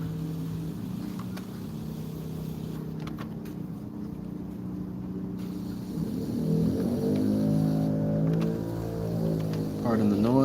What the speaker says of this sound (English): Got some cars and vehicles coming back and forth.